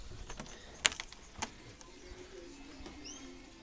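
Birds call faintly inside an indoor bird room, with soft coos and a few sharp chirps and clicks scattered over a quiet background hum.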